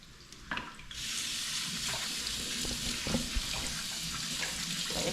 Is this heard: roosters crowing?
no